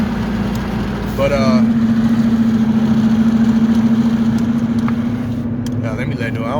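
A Dodge Charger R/T engine idles with a steady low exhaust rumble throughout, while a voice talks over it.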